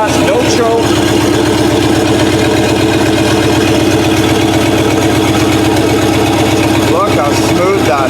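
A chopped 1950 Ford Shoebox engine, restarted after sitting for over twenty years, idles steadily with no throttle or choke, a loud, even, close throbbing that runs throughout.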